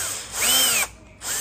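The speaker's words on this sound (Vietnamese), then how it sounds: "nháy khoan một chút thôi" A power drill drives a screw into a Crown bookshelf speaker, two short whirring bursts with a clear rising and falling pitch, close and loud, separated by a brief pause.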